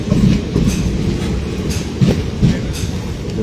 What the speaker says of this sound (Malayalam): ആ ട്രെയിൻ മൂവ് ചെയ്യുന്നുണ്ട്.